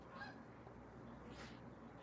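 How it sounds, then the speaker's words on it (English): Canada geese flying south over upstate New York give a few honks, faint and distant, over a steady outdoor background rumble with no talking. "Canadian geese flying south from upstate New York down to see the Inspirational Nomad in South Florida, USA."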